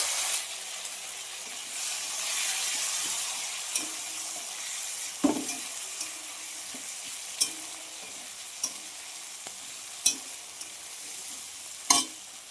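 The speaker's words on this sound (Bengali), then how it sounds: "আমি এবার দেখো পেঁয়াজ আর কাঁচা লঙ্কাটা তুলে দেবো সুন্দর" Onion and green chili frying in a pan on a kitchen stove, with a steady soft sizzle and hiss throughout and occasional light scraping taps of a stirring spoon against the pan, and no talking.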